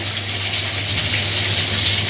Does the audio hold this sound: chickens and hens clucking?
no